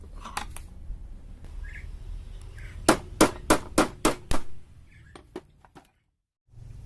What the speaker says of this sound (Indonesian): Sekarang saya kencangkan ini ya, dipukul juga.